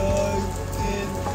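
Rain falling on a surface, a steady soft patter and hiss of drops that holds even across the short stretch, with no one talking.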